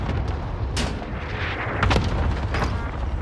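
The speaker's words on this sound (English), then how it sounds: "Enemy precision airstrike." Precision airstrike explosions in a first-person shooter video game, heard as rough booming blasts over a constant noisy battle bed, with a sharp burst near the start and a heavier one toward the end.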